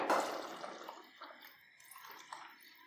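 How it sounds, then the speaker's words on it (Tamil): Water poured from a cup into a pot of simmering kudal kulambu, a Tamil intestine curry; a splashing rush at the start thins to soft trickles and drips, close and moderately quiet, with no talking. "இந்த கப்பால் நான் ஒன்றரை கப்பு தண்ணி சேர்த்துக்கிறேன்"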